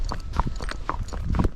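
Hooves of a young Rocky Mountain horse clip-clop steadily while it is ridden, a close, quiet series of rhythmic footfalls with no talking.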